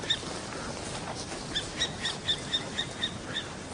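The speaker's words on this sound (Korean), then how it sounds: "새소리가 들린다. 가까운 곳에 있다." A long-tailed owl calls in a Norwegian forest, a series of faint, high, short chirping notes repeating at a steady pace over soft outdoor ambience.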